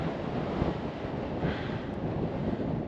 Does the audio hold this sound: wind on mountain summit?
yes